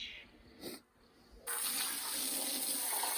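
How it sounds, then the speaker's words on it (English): Water rinsing inside a freshly butchered lamb carcass, a soft splash and brief gap before a steady, broad running-water wash takes over and continues close and loud to the end. "one final good rinse inside. Wash all the blood and stuff out."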